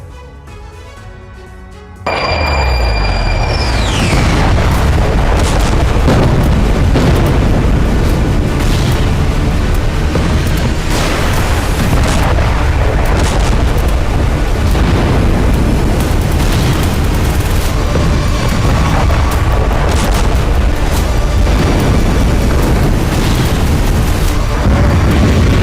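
Heavy, continuous booming blasts from airstrikes in Lebanon, loud and rumbling with layered explosions and crackling debris that run on after a brief quieter opening.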